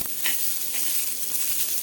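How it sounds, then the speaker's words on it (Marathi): Fresh green pigeon pea (tur) beans dry-roasting in a pan on medium gas, a steady close sizzle with faint scraping stir strokes and no voices. "छोले आता हे भाजून घ्यायचे छान अगदी खमंग"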